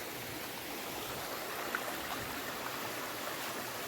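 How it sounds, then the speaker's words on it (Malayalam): Water flows over rocks in a forest stream at Mamalakandam, making a steady, soft, broadband rush that stays even throughout with no talking. "അതുകൊണ്ട് അവിടെ നിന്നാണ് വെള്ളം ഒഴുകി വരുന്നത് ഇത് പാറയുടെ മേലിൽ നിന്നാണ് വരുന്നത്"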